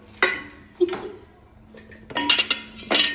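Plates being set down on a surface at a home meal of undhiyu, jalebi and muthiya, with a few separate clinks and clatters spaced across a short moment, some overlapping faint background talk.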